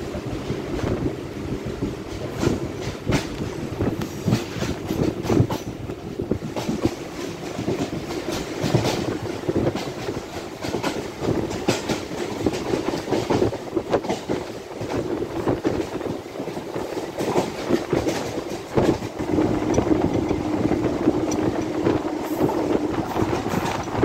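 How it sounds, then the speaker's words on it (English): An MMTS local train on the Nampalli to Gowdavalli line in Hyderabad runs steadily after leaving Alwal station, a loud continuous rumble with rhythmic clickety-clack of wheels and rushing wind heard from inside the carriage. "train has departed from Alwal railway station."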